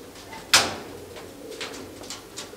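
Dhanne breed pigeons coo softly in the background after a sharp flutter or bump, their low murmuring calls repeating faintly.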